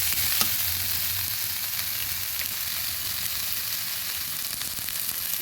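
Red lentils and mixed vegetables fry steadily in a pan for an oats khichuri, a continuous close, even sizzle with faint stirring and no talking.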